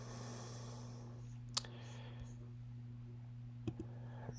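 A computer mouse gives a few sparse, faint clicks against a low electrical hum in a quiet room.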